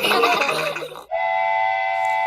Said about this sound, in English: Clickety-clack, the train rides on the track